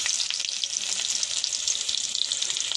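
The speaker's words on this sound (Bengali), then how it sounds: "কেটে রাখা পেঁয়াজটা এবার আমি কড়ার মধ্যে দেব।" Chopped onion sizzles and fries in a karai, a dense, steady crackling hiss that runs unbroken and fairly close, with faint stirring bumps beneath it.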